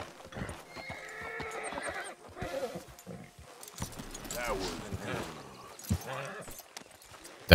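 A horse being tied up in the video game Red Dead Redemption 2, with hooves clopping, snorts and a whinny close by while voices talk over it.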